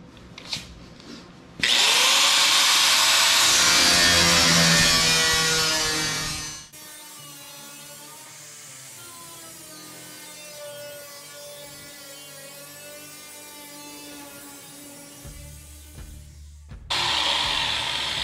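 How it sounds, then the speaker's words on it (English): Power tool cutting through the sheet-metal cab of a 1934 Chevy truck rat rod, a loud, steady broadband whine for several seconds, then a quieter, continuous grinding hum as the cut goes on, with the tool revving up again at the end. "Okay, now I'm just cutting probably probably an eighth inch below my line"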